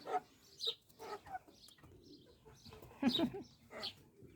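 A crested hen on a small farm with young chicks, giving short clucks and soft calls in scattered bursts, fairly close, with a few quiet fowl sounds between them.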